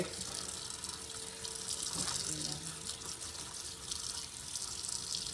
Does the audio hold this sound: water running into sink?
yes